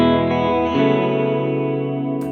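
An electric guitar runs through a Dark World reverb pedal paired with tape-style modulation, a loud sustained chord swelling with wavering, washed-out echoes that slowly fade, alone without talk.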